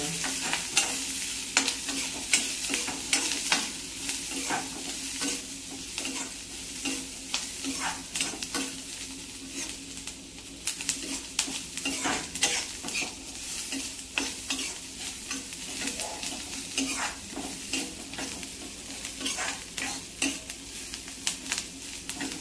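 Onion and coconut roasting in oil in a pan for a clam curry, with a soft continuous sizzle and frequent sharp scrapes and taps of a spoon stirring against the pan.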